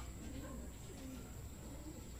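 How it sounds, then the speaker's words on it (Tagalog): Racing pigeons returning home from a 55 km club training toss in Teresa, Rizal, with soft low cooing close by over a steady background hiss. "Ayan, bago mag 7:40 nagdatingan yung mga ibon"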